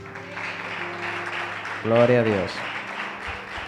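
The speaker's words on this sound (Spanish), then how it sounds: "Denle un aplauso a Dios." A church congregation at a youth service claps in praise to God, a steady wash of applause running beneath a voice, swelling briefly as someone sings or calls out over it.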